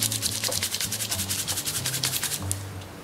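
Back-braided rope is rolled briskly between two palms to tighten it, giving a close, rhythmic series of quick rubbing swishes, about a dozen strokes in steady succession with no talking.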